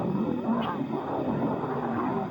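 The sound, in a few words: lionesses roaring in unison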